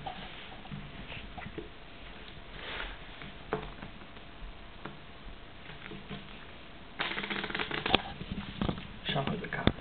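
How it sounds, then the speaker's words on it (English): Playing cards are shuffled with soft riffling and flicking, growing into brisker, louder riffles near the end, with someone talking quietly throughout. "Now I try to shuffle the card."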